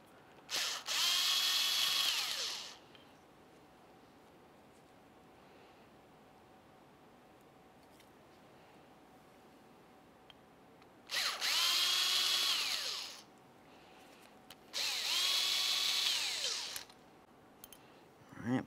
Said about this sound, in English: you're gonna find four T25 mounting screws. We'll remove all four and then carefully separate this.